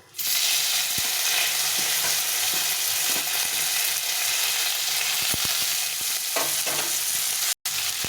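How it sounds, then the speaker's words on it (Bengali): Cauliflower fries in hot oil with spices in a pan, a loud continuous sizzle with occasional sharp stirring clicks and scrapes of a utensil, steady throughout with no talking. "এখন ফুলকপিটাকে এর মধ্যে ভেজে নেব একসঙ্গে করে ভেজে নেব"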